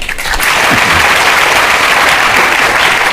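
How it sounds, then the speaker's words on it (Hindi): Loud, dense audience clapping at a Hindi talk, a sustained wall of applause swelling in quickly and holding steady to the end, with no voices over it. "आप सब ताली इसलिए बजा रहे हैं"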